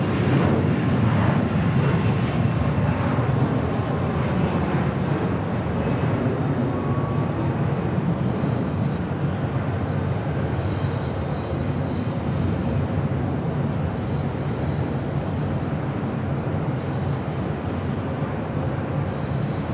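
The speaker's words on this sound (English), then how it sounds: "That was Delta Connection, Flight 3766, heading to Tucson, Arizona, that E175LR." A Delta Connection Embraer E175LR jet takes off at LAX, a loud sustained roar of jet engines with a broad rumble that holds steady throughout.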